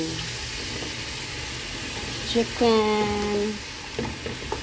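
Chicken frying with spices in a pan for Arabic kabsa, a soft steady sizzle with a brief louder burst partway through and a faint voice over it.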